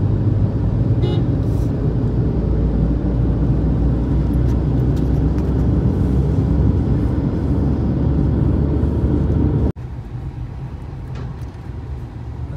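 Heavy traffic on the Mumbai–Pune Expressway heard from inside a moving vehicle, a loud, continuous low rumble of engines and tyres that drops abruptly to a quieter drone near the end.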